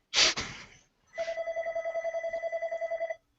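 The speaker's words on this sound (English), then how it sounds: "Ooh, phone call." A telephone bell rings, a loud trill of rapid pulses lasting about two seconds. Just before it comes a short, sharp noisy burst.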